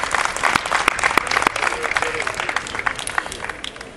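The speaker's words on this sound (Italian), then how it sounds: "Pandi, Pietro Iannello, a cui va il nostro grazie particolare e un grosso applauso." Steady applause from a crowd at a political rally, dense clapping throughout with a few sharper claps standing out, fairly close and sustained.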